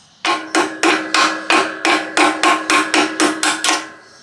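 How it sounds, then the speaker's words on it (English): A hammer strikes a soft aluminum part on a Yamaha Tenere 700 motorcycle, about eleven sharp, ringing metallic blows in a steady, evenly spaced rhythm, close and alone. "I don't really recommend hammering on this stuff. This is all soft aluminum."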